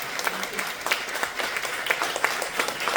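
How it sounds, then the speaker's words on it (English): Light applause from a small crowd, a patter of scattered claps running steadily throughout at moderate distance. "everybody give Mo a round of applause again"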